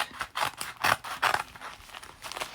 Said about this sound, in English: I'm going to cut with my paper scissors.